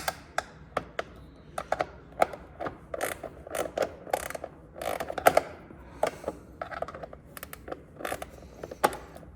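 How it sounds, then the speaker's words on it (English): A wrench tightens a bolt on a 2009 Yamaha Raptor 700R ATV, giving irregular metallic clicks and short creaking turns, close and fairly sharp, with pauses between strokes. "it's best to use a wrench. I'm tightening it."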